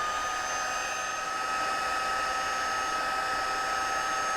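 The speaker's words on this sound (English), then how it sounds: "we will be using our heat tool to melt that powder" A heat tool blows hot air to melt embossing powder on a handmade Christmas card, giving a steady, even whirring roar that runs alone without a break.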